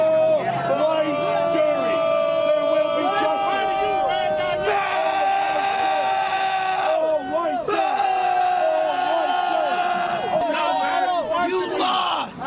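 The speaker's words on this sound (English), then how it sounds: "tensions boiled over outside the courthouse yesterday with dueling crowds on both sides making their voices heard" Rival crowds outside a Texas courthouse shout and chant against each other, loud overlapping voices and rhythmic yells filling the scene continuously at close range.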